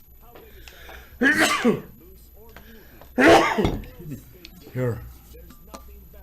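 A sneeze bursts out loudly at close range, then a second forceful sneeze or cough follows about two seconds later, with people talking quietly in between and afterward.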